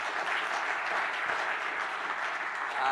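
Sustained audience applause fills a conference hall in Ghana after a speech, a dense, even wash of clapping from many hands that swells slightly louder at the end.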